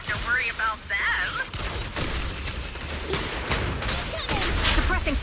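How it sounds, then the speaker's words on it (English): Rapid suppressing gunfire crackles in the action game Zenless Zone Zero amid clashing, mechanical battle effects, with a voice speaking over the din throughout. "Suppressing fire!"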